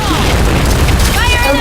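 Grenade explosion in the shooter video game PointBlank, a loud booming blast with a dense low-end rumble and scattered debris, with no clear pause or gap throughout.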